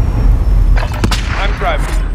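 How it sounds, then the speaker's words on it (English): Gunfire in Call of Duty: Warzone arrives as a few sharp, loud shots about a second into the moment, with swooping game effects trailing after them. "Receiving hostile fire."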